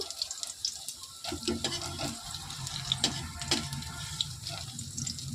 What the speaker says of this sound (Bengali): পিট পিট করে ভেজে তুলে নিচ্ছি